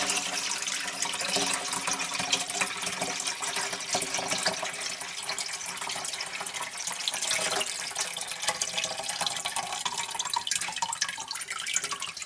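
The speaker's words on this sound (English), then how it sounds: "here we're going to strain all the liquid" Homemade beef bone broth from a crock pot strained through a sieve, a steady continuous pour and splash of liquid running for many seconds, close and even in loudness.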